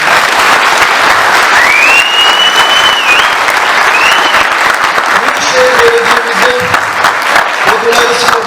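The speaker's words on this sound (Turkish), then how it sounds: "Ben tekrar oyuncu ekibine ve yönetmen ekibine bir kez daha sizlerden alkış almak istiyorum" Audience applauding the cast and directors of a stage production at a culture centre hall, sustained dense clapping filling the room, with faint cheers and voices mixed in.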